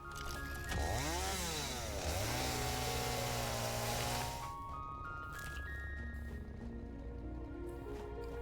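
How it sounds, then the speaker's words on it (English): Chainsaw running on solid fuel in the Satisfactory video game, a loud steady engine drone with rising and falling revving, then settling into a quieter even idle hum. "So the chainsaw will go for a little bit, using up whatever fuel value it has of this last unit of solid fuel."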